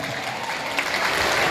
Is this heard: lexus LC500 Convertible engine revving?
no